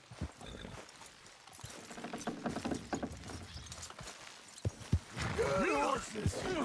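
Horses clopping and straining to pull in Red Dead Redemption 2, with a steady patter of hooves, a closing whinny and voices talking over the effort.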